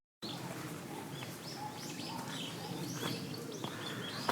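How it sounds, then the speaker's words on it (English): A field-recorded loop of birds in Japan: several light chirps and tweets scattered over a soft outdoor ambience, moderately distant and fairly quiet. "this bird loop from my Sounds of Japan drum kit. I recorded that sound myself in Japan."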